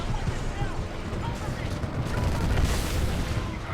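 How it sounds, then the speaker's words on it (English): Missiles launch from a Titan in the video game Titanfall 2 as a dense, continuous roar of rocket blasts and booms that swells toward the end, loud and unbroken. "And it just launches missiles everywhere."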